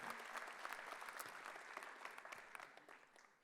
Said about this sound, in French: c'est Lise Frachis qu'on va applaudir bien fort